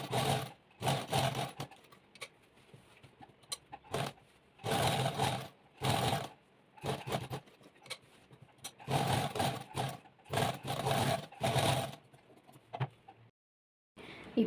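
A sewing machine stitches the lining of a kameez in repeated short bursts of running, each lasting about a second, separated by brief pauses.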